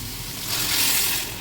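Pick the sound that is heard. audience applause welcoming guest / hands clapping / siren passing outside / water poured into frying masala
water poured into frying masala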